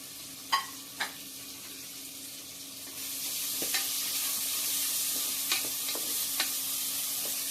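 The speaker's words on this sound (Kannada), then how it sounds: "ಸ್ವಲ್ಪ ಕೆಂಬಣ್ಣ ಪ್ಲೇಸ್ ಕಲರ್ ಚೇಂಜ್ ಆಗೋವರೆಗೂ ಅದನ್ನು ಚೆನ್ನಾಗಿ ಫ್ರೈ ಮಾಡ್ಕೊಳ್ಳೋಣ" Mutton chops fry in a pan with curry leaves, a quiet hiss that swells into a fuller sizzle partway through, with a few sharp spoon scrapes and taps against the pan.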